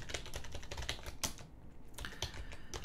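Rapid, crisp clicks of a computer keyboard come in quick close bursts, with a short pause midway before the typing resumes, and no voices.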